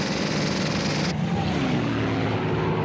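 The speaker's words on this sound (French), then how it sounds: "Les Alliés envoient des escadrons d'avions Typhoon équipés de mitrailleuses," Hawker Typhoon propeller aircraft drone loudly and continuously, a thick engine roar whose pitch shifts slightly as it passes, filling the whole stretch without voices.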